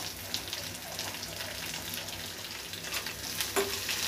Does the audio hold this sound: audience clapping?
no